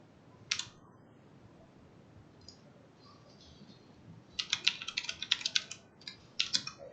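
Soft clicking keystrokes on a computer keyboard as a short phrase is typed: a few isolated taps, then a quick burst of rapid key presses, close and quiet with no talk.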